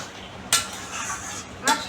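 A spoon stirs pumpkin leaves cooked with ground pea-lentil paste in a pan, giving two sharp metallic clinks against the rim over a soft, steady scraping background.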